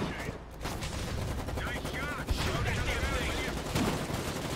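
Gunfire in the war game Foxhole: dense, continuous volleys of rifle and automatic fire rattle nearby, with overlapping shots and a busy battle din mixed with faint voices.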